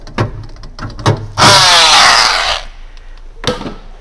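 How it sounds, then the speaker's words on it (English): A few knocks and clatters come first, then a harsh, buzzing grind of a drill boring a bolt hole in a Mazda Miata MX-5 race car for just over a second, followed by more knocks. "we're going to drill another hole"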